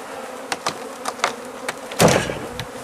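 Bees buzz and flit close to the microphone in short intermittent bursts during a bee removal behind a board, with a louder burst of activity near the end.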